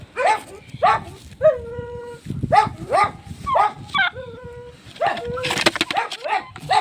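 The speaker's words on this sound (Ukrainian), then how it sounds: "А другий собака гавкає." A dog barks in sharp, repeated yaps and whines at close range on a farm where turkeys are being weighed, with brief bits of background voice between the barks.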